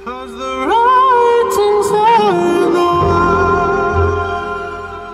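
Music with a clear sung melody plays loudly through the Bowers & Wilkins sound system in a BMW 7 Series cabin. Sustained tonal notes are heard up close, and a fuller bass comes in toward the end.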